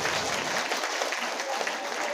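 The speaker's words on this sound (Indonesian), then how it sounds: "Boleh tepuk tangan lah, boleh." Brief, steady applause fills an indoor hall at a teachers' awards and motivation event, a dense wash of clapping from the audience.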